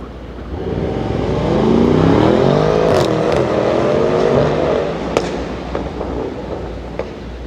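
A Mercedes-AMG car accelerates hard off the start line on a track-day driving course, its engine roaring loudly and rising and falling in pitch for several seconds, with a few sharp pops and clicks near the end.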